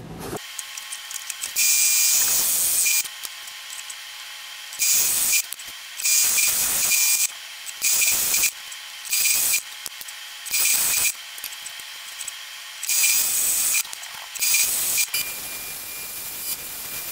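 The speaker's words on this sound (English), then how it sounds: "These are going to be drilled with a 1 1/4 inch Forstner bit" A drill press bores wood with a 1 1/4 inch Forstner bit in repeated bursts, each a loud harsh hissing, rubbing grind lasting about a second, separated by short quiet pauses.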